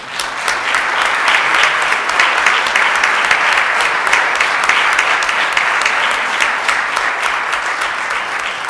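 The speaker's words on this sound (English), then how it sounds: "give them a big round of applause" Sustained applause from the audience at a city council meeting, loud and dense with steady clapping that holds evenly for the whole stretch.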